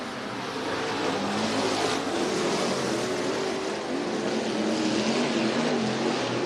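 Race cars roar around the Santa Maria Raceway oval in Nipomo, California, a steady, moderately distant engine drone with slight pitch sweeps as the cars run side by side off the fourth corner.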